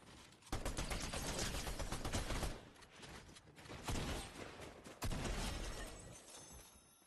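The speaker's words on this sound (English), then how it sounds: "shooting at me" Video game gunfire aimed at the player, loud bursts of rapid shots and sharp cracks with brief lulls between volleys, close and harsh, no talking.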